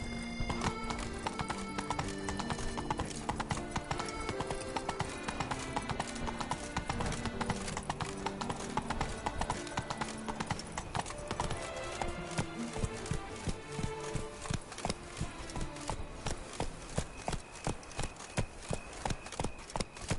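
The horse Roach gallops in The Witcher 3 with continuous rhythmic hoofbeats and occasional neighing over steady game music.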